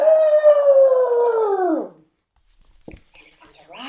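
A voice imitates an elephant with one long, loud, wavering trumpeting call that slides downward and fades, followed by quiet handling noise.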